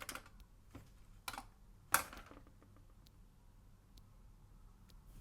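Keys tapped on a Commodore 64 with a faulty keyboard, a few sparse, quiet clicks with one sharper clack, heard close against faint background hum.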